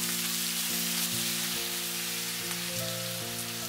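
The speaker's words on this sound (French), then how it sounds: "Je remue pendant 15 secondes." Chicken with ginger and garlic sizzles loudly in a caramel-coated pan, a dense steady frying hiss with a few soft stirring scrapes, close and continuous, with a faint tonal hum underneath.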